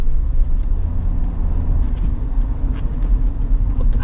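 Steady engine and road rumble inside a Kia Sorento Hybrid Signature being driven on a short test drive, heard from inside the cabin, continuous and fairly loud with no talking.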